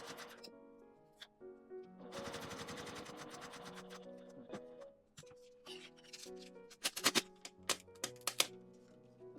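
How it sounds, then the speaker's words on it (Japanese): A sewing machine stitches a clear plastic sheet together with thin paper while making a transparent pouch, running in a steady rapid burst, then in short stop-start bursts with clicks and clacks between. "紙を使うときはクリアシートの端に合わせて一緒に縫います。"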